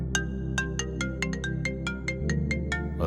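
A phone ringtone repeats as a run of about fourteen evenly spaced electronic tone bursts over a steady low hum, loud and close, with no one talking.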